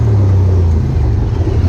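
A Honda Talon 1000R side-by-side runs fast and loud, its engine a continuous close roar with a steady low drone.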